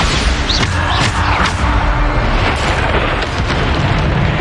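Bombarda spell explosions in Hogwarts Legacy, dense booming blasts layered with crackling debris and combat noise, loud and continuous throughout with little pause.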